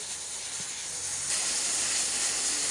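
Steady broadband hiss from tea heating in a pot on a kitchen stove, continuous and fairly quiet, growing slightly louder partway through with no talking.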